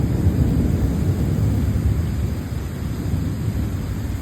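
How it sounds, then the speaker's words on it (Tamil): Heavy rumbling thunder rolls continuously through a downpour of rain, loud and steady throughout, heard from indoors near a window during a thunderstorm. "இடி சவுண்டு கேட்குறதா?"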